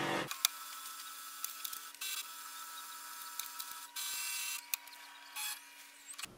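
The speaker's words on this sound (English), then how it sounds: "click on the printer scan icon here and this blue icon. And it will start the scanning process." An HP OfficeJet Pro 8024 all-in-one printer scanning pages, giving a faint, steady mechanical whir with scattered clicks and a few briefly louder motor passages.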